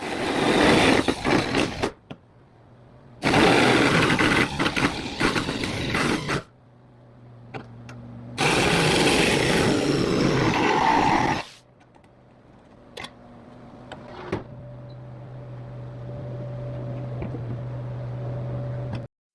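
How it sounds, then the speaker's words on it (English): A cheap body saw cutting a hole in the dash of a 1974 Jimmy, three loud bursts of harsh buzzing cutting separated by short pauses, then a lower steady motor hum with scattered clicks and clunks. "we decided it'd be best to go get a cheap body saw to finish off the cuts"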